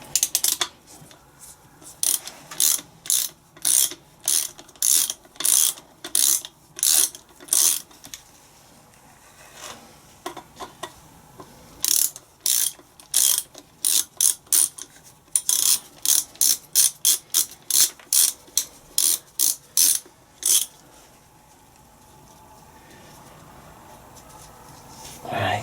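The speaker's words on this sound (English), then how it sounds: "I'm going to have to get the ratchet back on it because the thread's really long." A ratchet wrench backing out a long-threaded bolt on a Land Rover Defender TD5 R380 gearbox, heard as loud, close bursts of rapid clicking that stop and start several times, with a quieter pause partway through.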